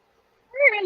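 A cat meows once, a single drawn-out call that starts after a half-second of quiet and is fairly close and clear.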